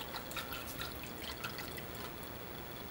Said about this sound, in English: I have this pan here that is full of water, and I'm going to go ahead and just swish this around in there